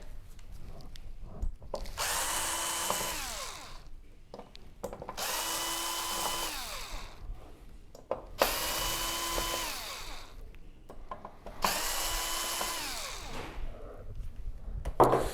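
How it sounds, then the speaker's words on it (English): A power screwdriver backs screws out of a board inside a Samsung UN65JS9000F television, four separate whirring bursts of a couple of seconds each, spaced by short pauses, close and clear with no talk. "we're gonna get these 4 screws out"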